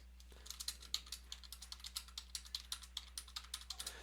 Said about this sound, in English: I'll type in the first column